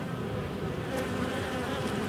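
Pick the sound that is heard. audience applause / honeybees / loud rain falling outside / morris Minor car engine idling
honeybees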